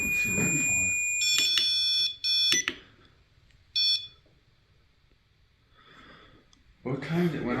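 REM pod ghost-hunting sensor sounding off in short bursts of high electronic tones, several beeps in quick succession, with people talking close by in between.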